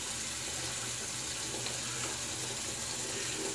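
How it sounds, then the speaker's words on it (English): Warm water runs steadily from a tap in a bathroom while someone prepares to shave, a constant splashing hiss with no talk. "let's get the warm water on the face, distilled water in the bowl"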